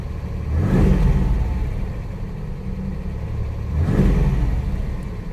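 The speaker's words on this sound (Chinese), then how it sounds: "那我们来看一下这台车的拉转哦，拉转仔细听哦" A 1962 Mercedes W111 with a freshly tuned antique engine is revved twice, each quick rise and fall swelling out of a steady idle, close and loud with no talking.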